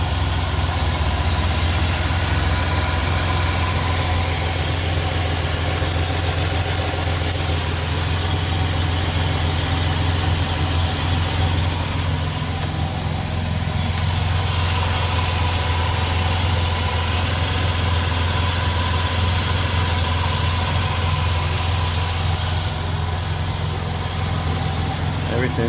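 A 1999 Pontiac Bonneville's 3800 V6 idles after an intake manifold replacement, a steady, even low rumble holding constant, close and moderately loud throughout.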